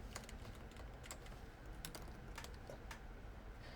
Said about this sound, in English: I'm typing it up right now.